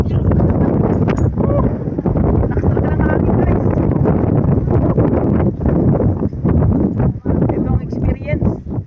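Strong wind on a mountaintop buffets the microphone in a steady roar with gusts, while people talk and exclaim over it.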